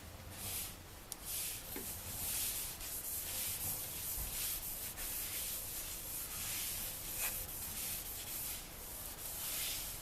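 Continuous rubbing and sanding-like hiss as sanding sealer cut with lacquer thinner is applied to a spinning claro walnut trumpet bowl on a wood lathe, steady and fairly faint with no talk.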